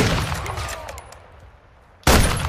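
Gunfire in the shooter game Modern Warfare II: a dense, loud burst of shots that fades to a quieter lull, then another sudden burst of firing at the end.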